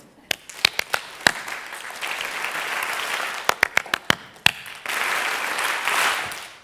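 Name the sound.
audience clapping along during a talk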